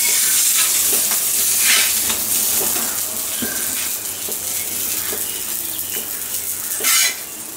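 Sardine fish fry in a pan of hot oil with a loud, continuous crackling sizzle and occasional soft scrapes of a utensil against the pan, close up and with no one speaking.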